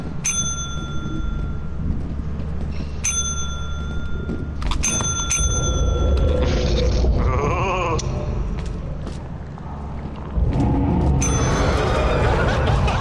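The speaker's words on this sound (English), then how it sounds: "Oh man, I'll ring the bell," A ship bell in Lethal Company rings in several sharp, repeated dings. Each strike has a clear ringing tone and short decay, heard in bursts against a busy game background with groans and other noise.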